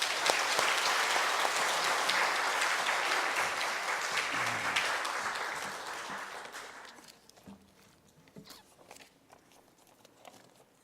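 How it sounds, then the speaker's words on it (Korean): A church congregation during a Sunday worship service claps loudly to welcome a visiting pastor, a full burst of applause that fades after about seven seconds into scattered claps and quiet rustling. "박수로 환영하겠습니다"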